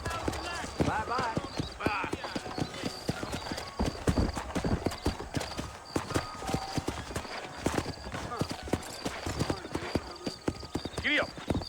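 Horse hooves clip-clop in a rhythmic trot across the Red Dead Redemption game world, close and steady, with occasional whinnies and game voices talking over them.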